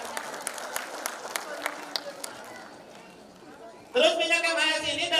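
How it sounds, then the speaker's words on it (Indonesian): Brief scattered clapping from a small audience at a product presentation, sparse hand claps that thin out, followed by someone speaking loudly into a microphone. "Tepuk tangan ya."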